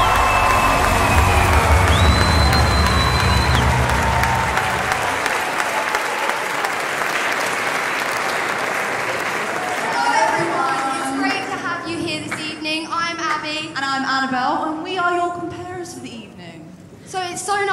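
Audience applause fills a school hall at Brentwood School's House Music 2021 event, loud and dense for about five seconds, then fading as voices and cheering carry on over a thinner patter.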